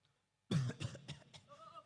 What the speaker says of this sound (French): je ne fais que tousser ces temps-ci